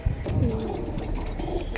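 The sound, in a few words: pigeons cooing in cages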